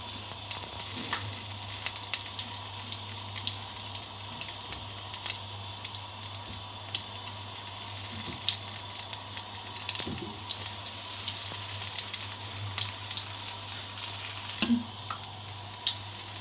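Cauliflower florets in a spiced coating fry in hot oil, a soft, steady sizzle with small crackles and pops running throughout, faint and without talk.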